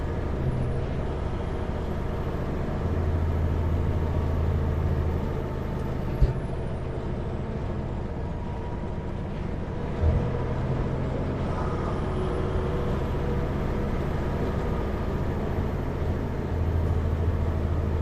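An empty heavy truck's engine drones steadily under load while engine braking downhill on Kootenay Pass, British Columbia, a deep continuous rumble with shifting pitch and a couple of brief clunks.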